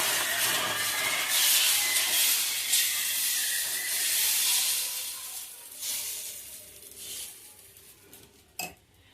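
Mung bean (paasi payiru) dosa batter poured onto a hot griddle gives a steady, close, broadband sizzling hiss that slowly fades, with a brief metallic scrape of a utensil near the end.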